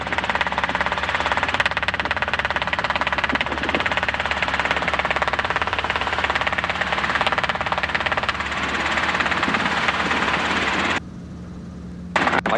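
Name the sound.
helicopter engine during takeoff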